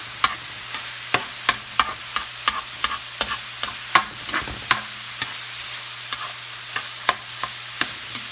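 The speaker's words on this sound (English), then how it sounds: "I'm just browning it like you would ground beef." Ground turkey browning in a pan, with a steady sizzle under regular, sharp scrapes and taps of a utensil stirring against the pan, close and clear with no talking.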